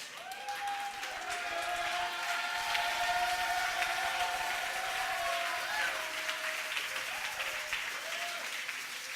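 Church congregation applauding and acclaiming together in a steady, dense wash of clapping that runs the whole stretch, with sustained voices and shouts rising over it.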